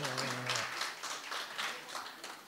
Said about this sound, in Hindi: डॉक्टर साहब आप थोड़ा तालियां बजवाओ